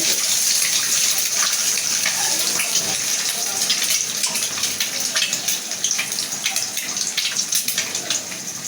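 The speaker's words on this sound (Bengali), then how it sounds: "তো আমার তেল গরম হয়ে গেছে আমি এখন এই ডিম দুইটে ভাজিয়ে" Two eggs drop into hot oil and fry with a steady, close hiss and crackle. Scattered sharp pops and spatters run through it for about nine seconds.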